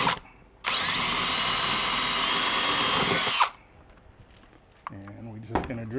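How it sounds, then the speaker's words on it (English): Power drill boring a hole through a plastic worm compost bin, a loud steady whirring burst of about three seconds close up, followed by quiet handling clunks and a brief low voice. "we're just going to drill a hole."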